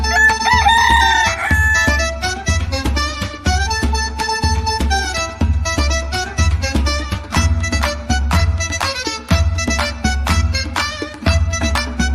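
A rooster crows near the start, then a bouncy tune with steady drums and bass carries on loudly throughout.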